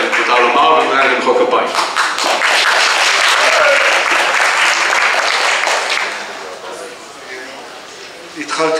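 An audience at a public gathering applauds an Israel Prize laureate, with dense clapping mixed with voices that eases off toward the end.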